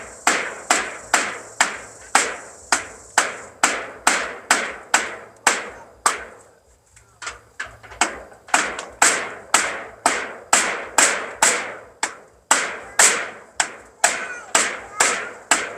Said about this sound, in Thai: เปลี่ยนสูตรใหม่ตอกไปหน่อยเพราะว่าไม้มันแข็งไปหน่อย